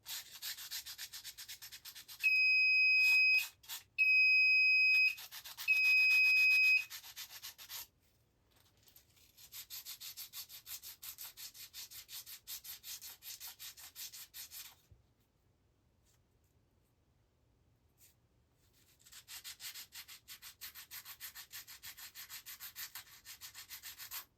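Close, steady scraping as sandpaper rubs the pins of chips from a pinball machine board, in several bursts separated by quiet pauses, with a few short high beeps near the start.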